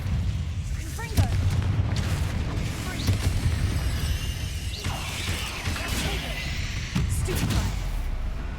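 Confringo explosive spell blasts in the Hogwarts Legacy video game: a run of booming, crashing bursts spread over several seconds, dense and fairly loud, with layered mechanical and debris-like noise between the hits.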